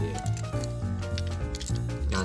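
Small everyday-carry scissors make a series of quick, close snips, several cuts in succession with crisp metallic edges.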